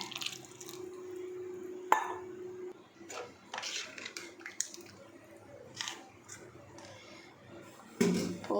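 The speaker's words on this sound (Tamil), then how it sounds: "அந்த மசாலா அரைச்சி வச்சுருந்த தண்ணியை ஆட் பண்ணிக்கிறேன்" Masala-grinding water trickles and drips into a simmering fish curry in a pan, with soft wet splashing and a few clinks of utensils, fairly close and moderate in level.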